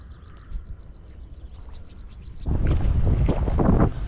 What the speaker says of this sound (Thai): ลม ก็แรงเหมือนกัน